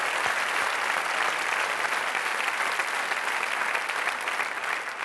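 A full comedy-show audience claps steadily and loudly, a continuous wash of hands that tapers slightly near the end.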